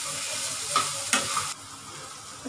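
Red chilli powder, salt and turmeric being stirred in a hot pan, a close sizzle with a few scraping strokes of the spoon before the frying quiets to a softer hiss.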